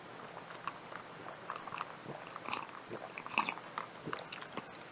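Curry-flavoured Korean fried chicken from BHC being bitten and chewed up close, with soft crunchy and wet mouth sounds continuing over a low background hiss.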